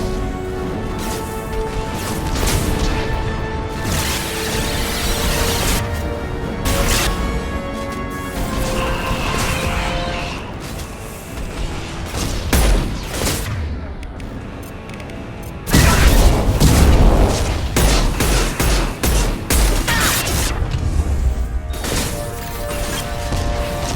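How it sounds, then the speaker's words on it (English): Weapons fire and heavy impacts hit a Collector vessel in the Mass Effect 2 video game, a dense continuous barrage of booms and crashes with a louder surge of blasts partway through, over game music. "Firing now. Attack didn't work. Multiple impacts. Collector vessel is taking damage."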